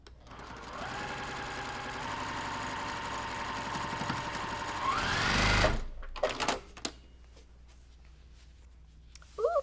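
A sewing machine stitches a quilt block in a steady, close, whirring run for about five seconds, then stops, followed by a few handling clatters and a brief voice near the end.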